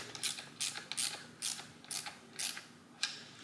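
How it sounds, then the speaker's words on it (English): A Harbor Freight plastic ratchet clicks as it turns bolts on a Jeep, in about seven short bursts of rapid pawl ticking separated by brief pauses, close and clear. "Always use your Harbor Freight plastic ratchet so you don't conduct electricity."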